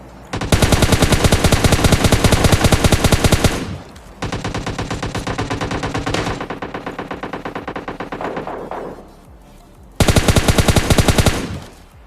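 Automatic gunfire in a PUBG Mobile Lite battle royale fight: long, loud rapid bursts of machine-gun fire, a sustained volley, a second longer stretch of shooting, then a final short burst, with no talk.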